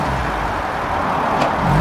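A 1953 MG TD Mark II competition car drives along with a steady, loud engine and road rumble heard from inside the car, holding an even level throughout the short stretch.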